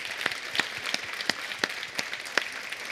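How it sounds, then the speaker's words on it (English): Scattered audience clapping after a chef's cooking demonstration at a food and wine festival, several distinct sharp claps spread unevenly across the moment, moderately close and not very dense. "Round of applause."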